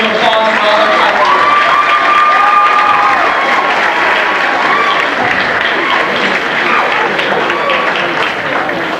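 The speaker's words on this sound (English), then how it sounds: "Would you please give them a round of applause for all their hard work?" An audience at a 1993 high school marching band awards event gives loud, dense, sustained applause that fills the room, with some cheering mixed into the steady roar of clapping.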